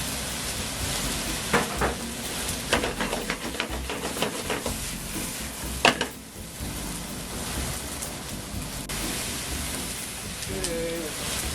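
Chinese cabbage stir-fried in a pan for yakisoba with shrimp, giving a steady hiss and sizzle broken by scraping stirs, and a voice speaking over it.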